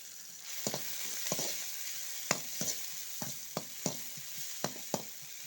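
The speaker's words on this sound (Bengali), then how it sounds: "এইদিকে নাপা শাক রান্না হচ্ছে, এইদিকে হচ্ছে মাছ আর ডাল।" Napa greens, fish and lentils cooking in a pan, giving a faint continuous sizzle broken by a regular series of crisp utensil scrapes and taps; no voices.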